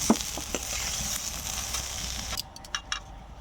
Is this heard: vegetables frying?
yes